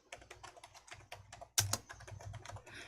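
Rapid typing on a computer keyboard while entering a spreadsheet sheet name, a quick run of close, crisp key clicks with a sharper, louder keystroke partway through, no voices.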